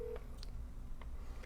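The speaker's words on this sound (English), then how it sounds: "Phone is ringing." Short telephone tones on a call line: a steady tone at the start, then a few brief beeps spread through the clip over a quiet hiss, with no talking.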